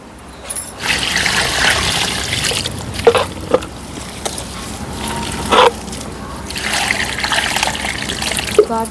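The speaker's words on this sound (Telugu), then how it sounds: "దీనిలోకి మనం ఇప్పుడు వాటర్ వేసి బాగా, ఇప్పుడు కల్లాపు కొట్టడానికి బయట అంత తిక్కుగా కలుపుకొని వాటర్ ఇందులో వేసేసుకుందాం ఈ డ్రమ్లో." Water pours and splashes into a drum holding cow dung outdoors, mixed for jeevamrutham plant fertilizer. Uneven gushes come close and fairly loud, with brief breaks and sharp splashes between pours.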